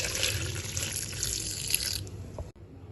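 Chilled milk from the fridge is poured into a blender holding Japanese fruit and sugar for a milkshake, a steady liquid pour that runs for a couple of seconds and then stops.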